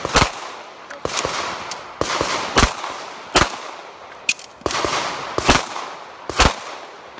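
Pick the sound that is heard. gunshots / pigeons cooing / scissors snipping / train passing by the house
gunshots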